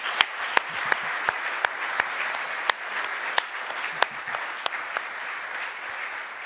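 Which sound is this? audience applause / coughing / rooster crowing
audience applause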